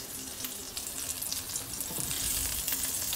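Rib eye beef sizzles in a pan with a steady, dense frying hiss throughout, gently swelling in loudness, with faint clinks and no talking.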